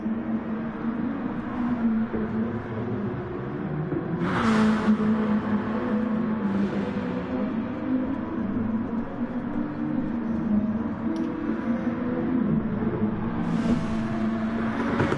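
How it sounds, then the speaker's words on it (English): Racing cars head out on their qualifying laps as a steady engine drone. A few brief sharper surges of noise rise above it, and no one speaks. "MRT cars just starting their laps."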